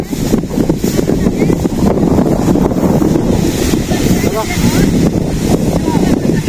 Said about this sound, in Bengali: তো প্রচুর বাতাস উঠছে তো তার কারণে ধানগুলো আর কি নড়তাছে